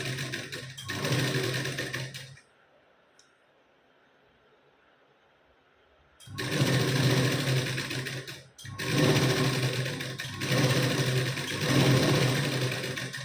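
Sewing machine stitching a blouse seam at a half-inch margin, a loud whirring run of fast stitching that stops for several seconds, then resumes in longer bursts with a brief pause between.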